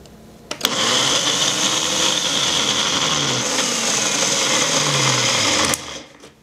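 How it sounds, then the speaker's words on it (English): A blender blending salad dressing runs steadily for several seconds with a loud, constant motor whir and whooshing liquid, then cuts off abruptly. "we're gonna put it on our blender for about a minute."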